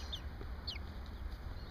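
Pet chickens clucking close by in a quiet indoor setting, a few short chirpy clucks standing out over a low steady background rumble.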